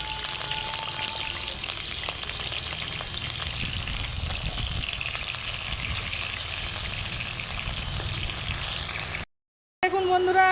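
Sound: frying pointed gourd in oil

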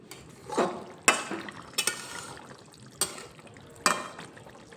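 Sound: stirring fish curry with potato and cauliflower in a pot

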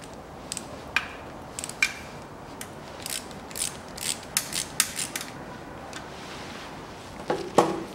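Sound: ratchet tightening hose clamps on a Land Rover Series III

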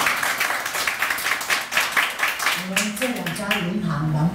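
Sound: audience applause

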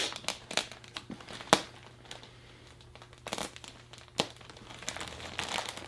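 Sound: cutting open packaging with a knife

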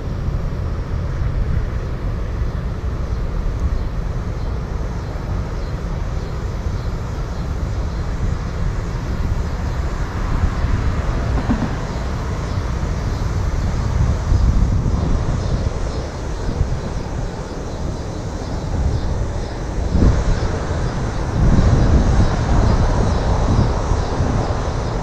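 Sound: Zino Mini Pro drone flying in strong wind

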